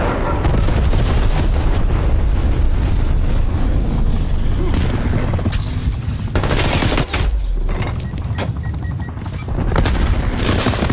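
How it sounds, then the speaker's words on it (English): A napalm strike lands in Call of Duty Cold War multiplayer, producing loud, continuous booming blasts and crackling roars with rapid gunfire-like bursts layered over a dense, chaotic battle din. "Enemy napalm strike incoming."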